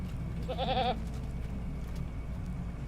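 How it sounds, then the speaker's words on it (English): A goat bleats once in a video game set on a rural farm hill, a short wavering cry standing out over steady background game ambience and music. "Uh-oh, the goat's running away from me."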